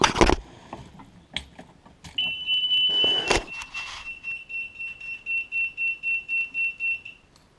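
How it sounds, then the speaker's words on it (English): A Talon anchor alarm on a Tracker 175 boat beeps near and clear: a sustained high tone, then a string of about eight even pulsed beeps, preceded by a few sharp clicks and knocks. "I'll let you hear this alarm"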